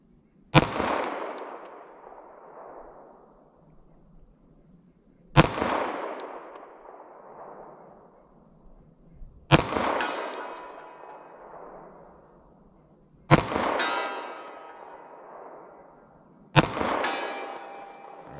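PPU Defense handgun rounds, 9mm, fired at steel targets outdoors: five loud single shots spaced a few seconds apart, each with a sharp crack and a long ringing decay.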